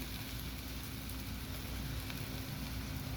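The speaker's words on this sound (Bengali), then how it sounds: "এই যে আমি তেলের পরে দিয়ে দিচ্ছি" Lentil and pea fritters made from masoor and matar dal, with onion, fry in hot oil, giving a dense, even crackling sizzle that stays close and steady the whole time.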